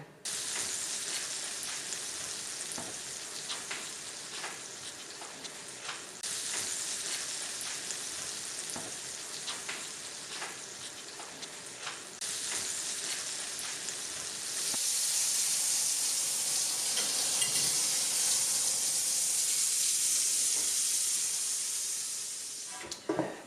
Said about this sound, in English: And we are cooking now on the pan.